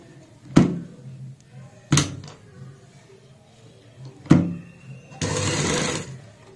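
A sewing machine stitches fabric along a seam, with three thumping clunks of the mechanism spaced out before a steady buzzing run of stitching near the end.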